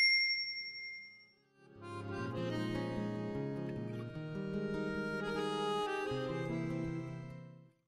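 A notification bell sound effect rings out as a bright, sustained chiming ding with shimmering overtones, sounding alone for several seconds before fading.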